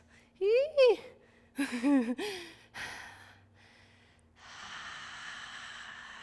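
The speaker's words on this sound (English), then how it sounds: "And breathing." Voiced sighs and gasping breaths during yoga breathwork come in a few close bursts, followed by a long, steady breathy exhale, close and fairly loud.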